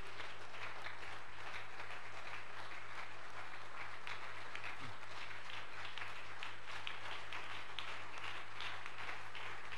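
A church congregation applauding and cheering during a Sunday service, a dense continuous wash of clapping that stays loud and even throughout, with no clear speech on top.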